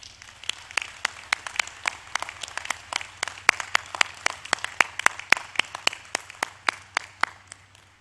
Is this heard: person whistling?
no